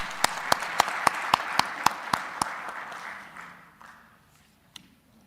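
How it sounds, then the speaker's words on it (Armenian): A lawmaker's clapping rings out in a parliament chamber during a birthday tribute to a national hero, a steady series of about ten sharp claps over a soft background of applause that fades away. "առաջարկում եմ ծափահարություններով շնորհավորենք"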